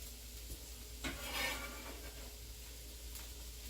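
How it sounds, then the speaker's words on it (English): Onion sizzling as it is stirred in a pan while cooking for lasagna: a soft, continuous close sizzle with scraping stir strokes, one louder sweep near the middle, and no talking. "can actually go ahead and add our onion to the pan"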